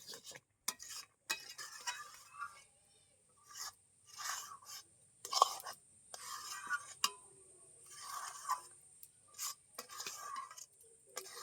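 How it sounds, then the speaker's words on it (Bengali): A spoon scrapes and stirs a Gobindobhog rice sweet flavoured with cardamom in a pan as it cooks down dry, giving quiet, intermittent scraping strokes separated by short pauses. "এইভাবে নাড়তে নাড়তে একদম শুকনো করে নিয়ে"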